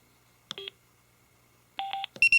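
Sena Prism action camera emitting electronic beeps as video recording stops: one short tone, a pause, then a quick triple-beep burst and a final pair of higher chirps, close and clean against near silence.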